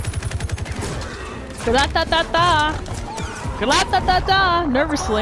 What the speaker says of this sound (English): Shooting as much as possible, without conveniently running out of ammo.